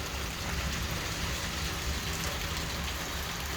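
Heavy rain pours down steadily in the village of Nadybie Wieś, a dense, even hiss of drops striking surfaces with no pauses and no voices.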